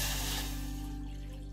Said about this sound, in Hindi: बर्तन में पानी डाल देते हैं।